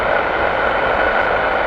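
A British Airways Boeing 777 arrives at Heathrow with a steady, broad jet roar that holds constant throughout this short stretch, fairly close and loud, with no voices over it.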